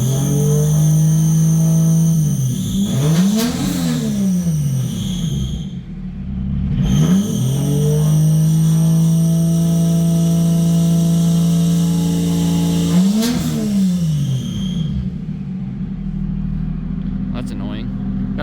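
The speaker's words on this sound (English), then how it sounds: "There's my belt squeal." A Toyota 1JZ engine swapped into a Nissan Silvia revs up and falls back several times, loud and close, while a high drive-belt squeal sweeps along with each rev, with a few words spoken over it.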